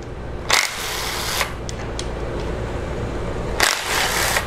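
Bursts of an impact wrench spin off valve cover bolts on a Jeep 2.4 engine, two loud broadband whirs at the start and end with fainter clicks and clatter between, close to the mic.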